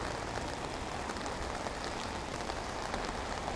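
Rain falls steadily on a wet field hockey turf, a dense even hiss of drops that stays constant and fairly close throughout.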